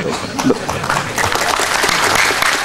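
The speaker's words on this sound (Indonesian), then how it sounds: "Tepuk tangan." A crowd at an outdoor religious study gathering breaks into applause, lively close clapping with voices mixed in, brief and fairly loud.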